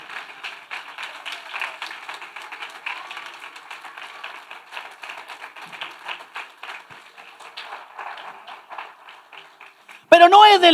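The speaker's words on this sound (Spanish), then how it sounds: "Bueno, pues si le vas a aplaudir, aplaudir." A church congregation applauds in a dense, steady patter of many hands clapping, moderately loud for about ten seconds before a voice takes over.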